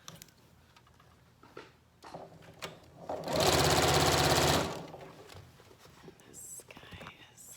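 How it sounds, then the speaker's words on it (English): Sewing machine stitching qaspeq fabric and running over pins, a loud rapid whirring burst of about a second and a half in the middle, with quiet handling noises and soft whispered talk before and after. "I tend to sew over my pins."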